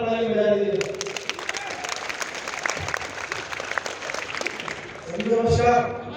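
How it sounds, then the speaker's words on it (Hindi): An audience claps loudly in a dense, sustained round of applause lasting several seconds, with someone speaking before and after it. "जोरदार ताली बजा दीजिए"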